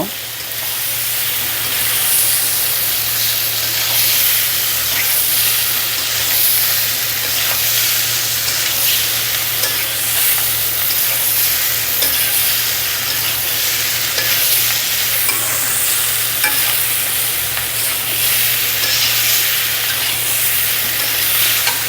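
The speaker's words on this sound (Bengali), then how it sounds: "এবার উল্টা পাল্টে মিশাই নিব।" Pumpkin and onion fry in a pan, giving a loud, constant sizzling hiss while they are turned and mixed, with soft scraping stirs underneath and no talk.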